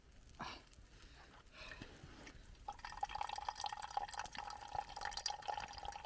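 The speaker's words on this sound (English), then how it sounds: "It's like dripping all over the place." Water drips from a camp water filter at an outdoor winter bushcraft site, a steady patter of close drops and trickles that grows busier and louder through the second half.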